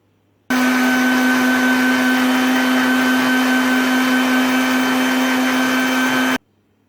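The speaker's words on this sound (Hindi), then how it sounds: "अब मैं ग्राइंडर जग में इसको तकरीबन 1 मिनट के लिए अच्छा सा ग्राइंड करूँगी" Electric grinder jug blending an orange Fanta kulfi mixture, a loud steady motor whine that starts abruptly, holds one even pitch for about six seconds, then cuts off sharply.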